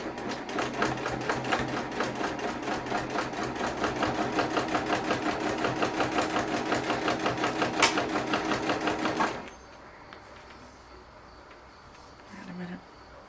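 A sewing machine stitches a concealed-carry purse, a fast rapid-fire mechanical chatter running loud and steady for about nine seconds before stopping abruptly into near quiet.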